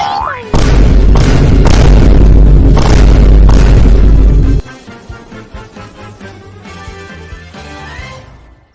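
A cartoonish boom sound effect replaces an explosion in Genshin Impact, a loud, deep blast lasting about four seconds that cuts off abruptly, followed by softer game sounds and music.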